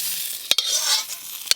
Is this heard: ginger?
yes